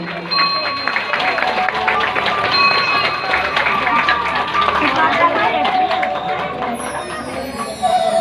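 A crowd at a Ram Katha gathering at Kalpeshwar temple breaks into loud, dense, sustained applause that fills the whole stretch, with faint voices mixed into the clapping.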